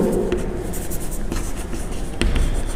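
Someone writes on a board during an organic chemistry lesson on isomerism, producing soft scratchy strokes and small taps that stand out clearly and up close.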